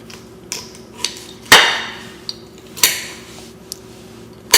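A knife scrapes and clinks against a plate while cutting avocado toast, a few sharp ceramic knocks with short grating strokes, spaced irregularly, close and fairly loud in a quiet kitchen.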